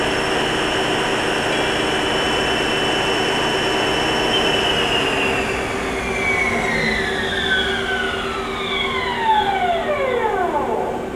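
A Haas ST-30 big-bore CNC lathe spindle spins at 1,500 RPM, giving a loud, steady mechanical whine with layered tones that slide downward toward the end, with no voices.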